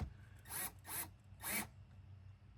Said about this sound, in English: Bringing in the Milwaukee drill.